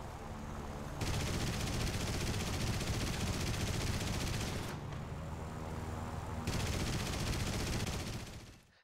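Sustained machine-gun fire in War Thunder, aimed at the rear gunner of a Wellington bomber, comes as loud, dense rattling bursts broken by a couple of short gaps.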